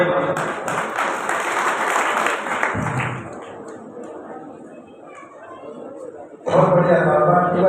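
An audience at a kavi sammelan during the Maharaja Agrasen Jayanti festival in Badarwas breaks into loud applause mixed with crowd chatter, fades under talk, then swells into clapping again.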